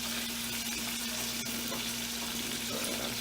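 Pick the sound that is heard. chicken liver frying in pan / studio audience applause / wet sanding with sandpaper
chicken liver frying in pan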